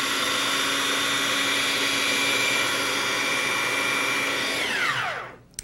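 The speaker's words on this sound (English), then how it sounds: "Work on your mustard. I still need to grind it a little more" A blender grinds homemade mustard with a loud, steady high-pitched motor whine that holds for several seconds, then spins down in a falling pitch and stops with a brief clunk.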